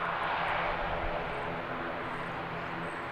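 An ATR turboprop airliner at Christchurch Airport, a steady distant engine roar that stays broad and even, fading slightly over a few seconds outdoors.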